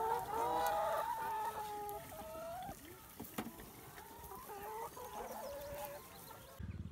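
Several chickens cluck and croon close by, with a rooster crowing in the mix, overlapping calls across the whole stretch.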